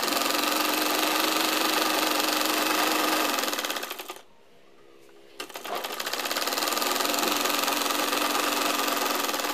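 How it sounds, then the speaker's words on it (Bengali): Sewing machine running steadily while stitching the corner of printed three-piece fabric, a loud continuous motor whir that stops for about a second and then resumes with the same even buzz. "সেলাইটা দেওয়া হয়ে গেলে আমি কাপড়টাকে ঘুরিয়ে নিয়ে এবার একেবারে কর্নারে আরেকটি করে সেলাই বসিয়ে দিচ্ছি"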